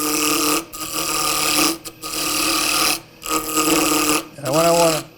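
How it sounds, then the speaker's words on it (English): A half-inch spindle gouge cutting a wooden kitchen scoop on a lathe gives loud, continuous, buzzing cuts in several long passes separated by brief pauses, the last one ending with a rising and falling whine. "I'm going to start out using a 1/2-inch spindle gouge just to get rid of some bulk."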